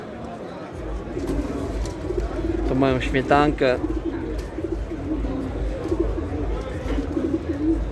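Pigeons coo and warble softly amid a constant murmur of birds at a pigeon show in Katowice, while a person speaks briefly nearby.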